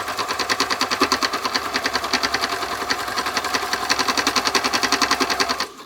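An embellishing machine for textile work runs close by, a steady rapid mechanical chatter of needle punches with a regular pulsing rhythm that stops abruptly at the end.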